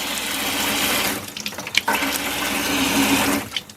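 Water running from an RV faucet during de-winterizing, a steady close rushing stream with a brief dip and gurgle midway before flowing on.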